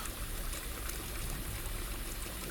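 A shower in the Nina Aquila video game runs with a steady, close hiss of falling water, unbroken and fairly loud throughout.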